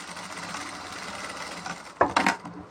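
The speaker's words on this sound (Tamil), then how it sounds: "கரெக்டாக இந்த இடத்துல தையல் நேராக வரணும்." A sewing machine running steadily as it stitches the seam of a chudidar, a close continuous whirring, followed by a few sharp clunks near the end.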